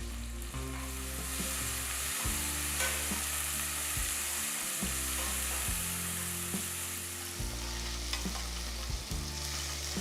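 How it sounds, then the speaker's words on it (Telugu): Sliced onion frying in ghee and oil inside a pressure cooker, a continuous bright hiss and crackle at close range with faint stirring underneath and no talking. "ఇందులో పొడవగా తరిగిన 1 ఉల్లిపాయ వేసి వేయించాలి"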